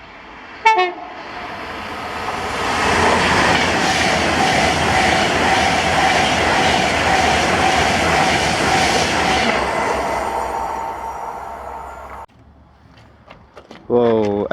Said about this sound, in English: Then this was 1S42, the 11:39 Virgin Train service to Glasgow Central from London Euston.